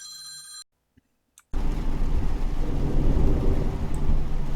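A telephone rings in short repeated bursts at the start, then a brief gap gives way to a steady roar of heavy rain and rumbling thunder from a rainy truck-driving game that fills the rest.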